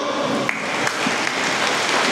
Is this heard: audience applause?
yes